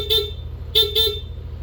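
Stock horn on a Yamaha NMAX V2 scooter, giving three short nasal beeps: one, a pause, then two in quick succession, close and loud against quiet background.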